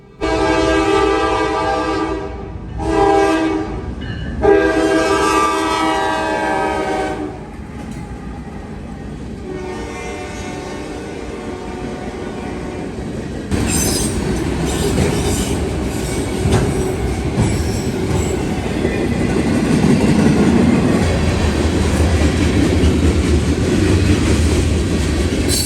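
A Norfolk Southern freight train heads eastbound past milepost 163 in London on the Dayton District, opening with several loud blasts of its horn before settling into a steady, heavy rumble of rolling cars and wheels.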